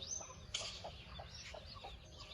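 A yellow Aseel hen clucks close by in a series of short, soft, evenly spaced notes over a low background rumble.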